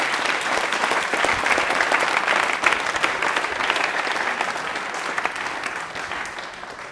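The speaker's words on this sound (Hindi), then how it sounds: "सुमित के लिए प्लीज तालियां हो जाए," Sustained audience applause from a studio crowd at a Rajasthani general-knowledge quiz show, a dense, steady clatter of many hands clapping close and loud throughout.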